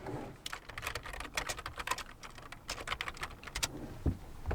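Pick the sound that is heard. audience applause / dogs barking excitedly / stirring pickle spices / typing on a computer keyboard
typing on a computer keyboard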